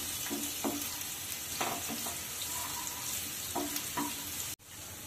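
Chopped onion frying in a pan for a jackfruit kofta curry, a steady sizzle with intermittent stirring scrapes, and a brief sharp knock near the end.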